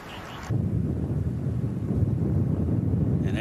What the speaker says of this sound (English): As we hear, that's not a gentle trade wind right now.